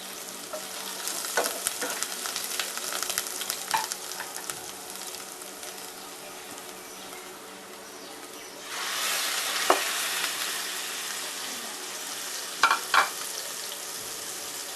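Steady frying sizzle fills the clip, swelling louder partway through as a fresh Bombay duck chutney paste with kokum hits hot tempering oil, with a few short clinks of stirring near the end.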